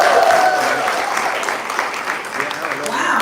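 Audience applause filling a room at a political gathering in Little Saigon, loud clapping that eases slightly mid-way and picks back up, with no voices over it.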